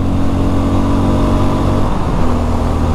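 A Mash X-R motorcycle engine drones loudly and steadily as the rider holds it near top speed, a close, continuous roar with slight rises in pitch and no talking.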